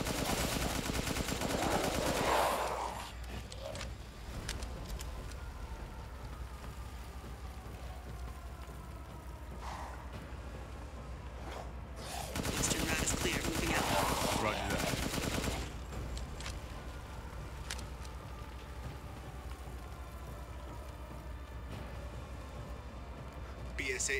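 Gunfire in Resident Evil Village comes in two loud rapid bursts, one near the start and another mid-clip, over a steady rumbling background with quieter stretches between.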